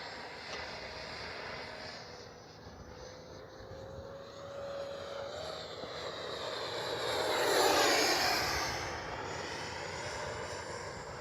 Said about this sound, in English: Great flying plane, great flying jet.